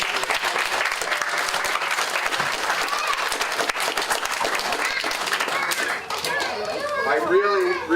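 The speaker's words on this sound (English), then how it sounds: "let's give them a round of applause" A crowd at a summer reading program ceremony claps steadily throughout. Toward the end, children's voices and chatter come up over the fading applause.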